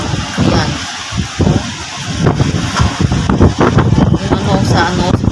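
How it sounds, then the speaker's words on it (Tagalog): Typhoon wind and heavy rain batter a building, with loud gusty roaring and wind buffeting the microphone throughout, and a voice heard faintly underneath. "yung hangin tsaka yung ulan nagsasabay"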